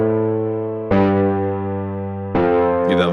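A clean synthesized piano plays sustained chords with a gritty, saturated edge; two struck chords ring out, followed by a brief burst of noisy hiss.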